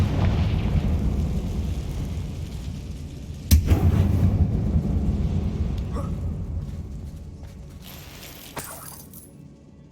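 A Confringo fire spell explodes in the Hogwarts Legacy video game with one sharp, booming blast over a rumbling backdrop. The rumble slowly fades, and a few faint clicks and chimes follow.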